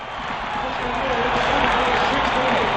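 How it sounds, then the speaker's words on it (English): A basketball crowd at Madison Square Garden, St. John's against Michigan in 1965, roars in a dense, steady wash of noise that swells gradually and stays loud throughout. "Listen to this crowd."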